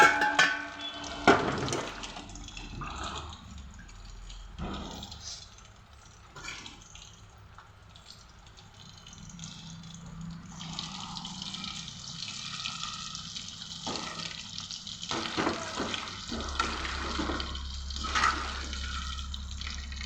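Chicken pakoda pieces sizzling and bubbling in hot oil, a steady moderate fry with intermittent crackles and a stronger, denser sizzle building toward the end.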